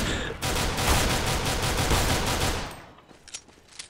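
Rapid gunfire from the video game Counter-Strike: Global Offensive, a dense burst of loud, closely spaced shots lasting a couple of seconds before fading into quieter game noise.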